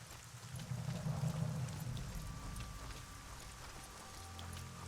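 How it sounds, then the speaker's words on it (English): Rain falling in the video game Arcania, a soft steady patter of drops with a low rumbling bed beneath, continuous and moderately quiet throughout. "Oh, rain."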